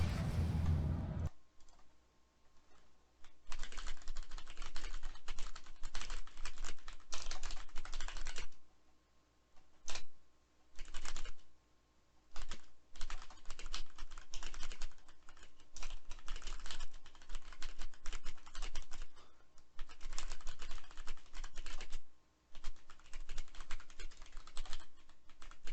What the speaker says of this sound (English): I'll go ahead and type to you.